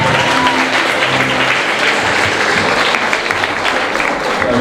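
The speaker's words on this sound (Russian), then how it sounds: "давайте еще раз похлопаем друг другу теперь уже" Audience at a talk in Kueda applauding together, a dense steady clatter of many hands clapping throughout at fairly loud level, with a faint voice briefly at the start.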